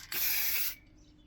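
One short burst of clear lacquer spray hissing from an aerosol onto a plywood scroll-saw cutout, close and steady for about half a second before cutting off.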